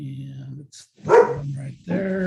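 A dog gives a short bark in the middle of a brief stretch of speech, close to the microphone, with the talking resuming right after.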